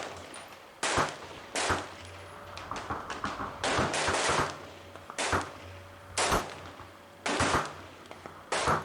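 An M1A rifle with iron sights fires at a steel plate at long range. About nine sharp, loud reports come roughly a second apart, with faint ringing in the gaps.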